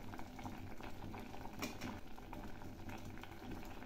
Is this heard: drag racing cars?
no